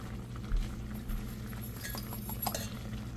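Ginger chutney with chilli powder being stirred in a pot, a spoon clinking against the metal in a few light taps over a low, steady background hum.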